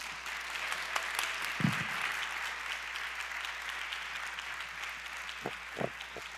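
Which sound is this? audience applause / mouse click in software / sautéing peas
audience applause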